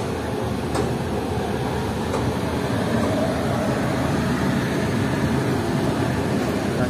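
The Parasuram Express passenger train rumbles steadily along the tracks from Mangaluru Central, a constant loud roar with faint rhythmic clatter and no voices.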